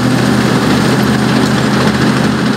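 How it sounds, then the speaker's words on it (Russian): Engines of combine harvesters working in wheat fields, a loud continuous low-pitched mechanical drone with a steady hum and no breaks, heard alone. "шум моторов уборочных комплексов на полях Леонова не смолкает до поздней ночи"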